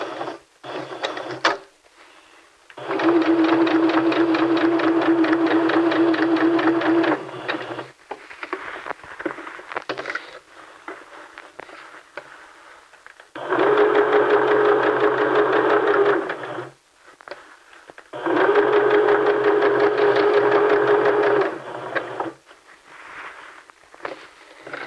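A sewing machine stitching the seam of a T-shirt dress runs in three long bursts of steady, buzzing whir, separated by pauses with faint handling noises, close and clear.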